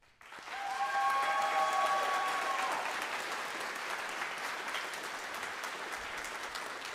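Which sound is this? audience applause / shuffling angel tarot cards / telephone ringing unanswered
audience applause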